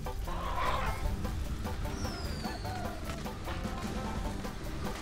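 Chicken clucking inside the video game Neverwinter, steady and moderately close with a brief higher-pitched call near the start, layered over busy in-game background sounds.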